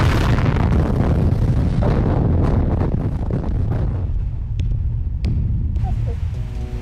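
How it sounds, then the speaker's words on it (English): Rock blasting deep underground in a Cornish tin mine, a loud rumbling boom that fills the opening seconds and rolls on as a long reverberant roar, with a couple of sharp cracks near the end. "going underground and blasting the rocks"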